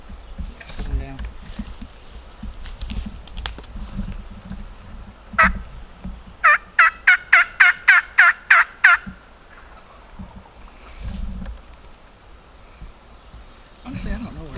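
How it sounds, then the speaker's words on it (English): A wild Mississippi longbeard turkey gobbles once in a rainy, wet morning woods, then lets out a fast run of about nine sharp, loud gobble notes, with soft rustling and quiet background noise before and after. "Just let him gobble on his own."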